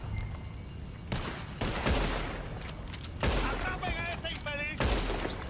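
Shootout gunfire in the video game Red Dead Redemption 2, with repeated loud bursts of overlapping shots and ricochet-like whines, while someone shouts in Spanish over the fighting.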